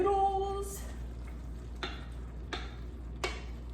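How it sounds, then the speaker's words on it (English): Noodles go into a hamburger casserole in a sizzling pan, with a soft steady fry under a few sharp scraping clinks spaced about a second apart. "We're going to add in the noodles."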